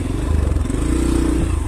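A motorcycle engine labours uphill in low gear on a hill road in Banke, Nepal, a loud close pulsing throb with steady rhythmic firing and some clatter, holding a constant drone throughout.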